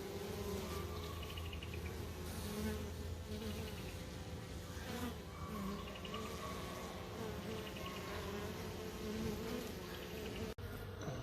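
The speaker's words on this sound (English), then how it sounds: "you can see they're fanning, sending out their pheromones" Honeybees from a newly installed three-pound package buzz and fan at the hive entrance, giving a steady, soft, close drone that hums on evenly with no voices.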